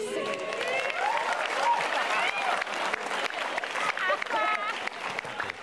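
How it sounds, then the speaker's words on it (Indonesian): Audience at an Indonesian stand-up comedy show clapping steadily and loudly for several seconds, with cheers and whoops mixed into the applause. "Beri tepuk tangan untuk Bintang dan Semi."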